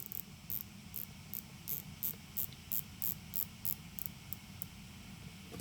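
A series of faint, regular clicks comes from a 2020 Rolex Submariner's unidirectional bezel being rotated, about a dozen evenly spaced ticks, close and quiet over a soft background hiss.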